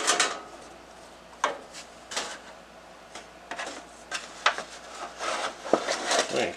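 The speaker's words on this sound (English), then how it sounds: "Using the appropriately sized tools, I'm going to remove the oil filter." Metal tools scrape, click and clank against the oil filter of a Murray riding mower in a quiet workspace, making a series of irregular close knocks and rattles with short pauses between them.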